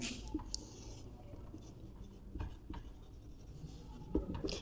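Pen or marker writing out a maths formula in a class 12 integration lesson, a steady scratchy stroke sound with brief taps, close and continuous, no talking.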